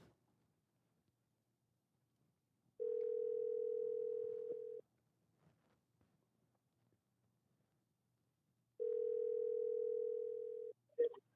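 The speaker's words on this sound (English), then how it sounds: "He just dialed me. We're calling him back." A telephone rings back on an outgoing call, two long steady ring tones separated by a silent gap, clear and fairly loud with nothing else around them.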